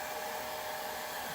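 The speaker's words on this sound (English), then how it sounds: "I have got to pull out the hairdryer" A new, fairly quiet hair dryer blows steadily, a continuous broadband whoosh with an airy hiss, close and unchanging throughout.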